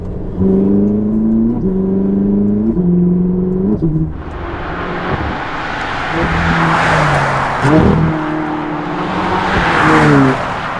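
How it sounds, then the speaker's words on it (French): A Ferrari sports car accelerates hard, its engine revving up through rising tones with gear changes, then a loud rushing roar as it pulls away, up close and without talk. "Forte accélération, ça pousse très fort."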